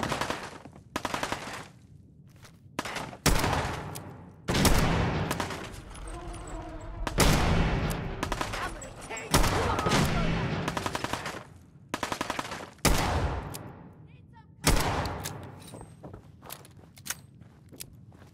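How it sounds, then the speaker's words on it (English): A minigun in Fallout 4 rattles off long, loud bursts at a Deathclaw, repeated volleys with brief pauses and footsteps between them. "I'm going to use the entire minigun's ammo on the Deathclaw."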